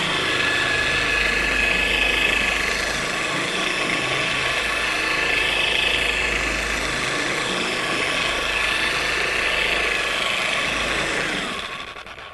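A dual-action polishing machine running at low speed spreads a thin coat of sealant over a car's paint, giving a steady close whirring hum that holds for about eleven seconds before fading, with no talking.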